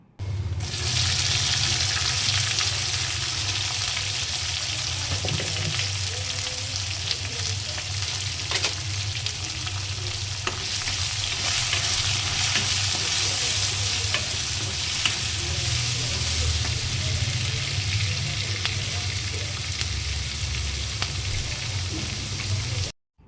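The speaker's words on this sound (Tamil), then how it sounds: "ஆட் பண்ணிவிட்டு வெங்காயமும் நல்லா பொன்னிறமாக வதங்கி வர வரைக்கும் நல்லா வறுத்து எடுத்துக்கலாம்." Chopped onions fry in a pan for a mutton curry, giving a steady, loud sizzle that runs without a break under occasional stirring scrapes, with no talking.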